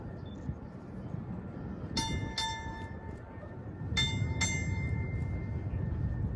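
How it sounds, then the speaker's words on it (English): A boatswain's pipe pipes the side at a US Navy retirement ceremony, shrill whistle notes sounding in two pairs of short bursts over a low murmur of room noise. "Boatswain, stand by to pipe the side"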